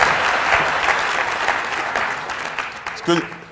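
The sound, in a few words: audience applauding Gaëtan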